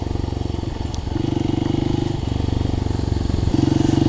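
A Kawasaki KLX 300 dirt bike engine chugs and revs close up while riding over rocky trail, its pitch rising and dropping in steady bursts as the rider works the throttle.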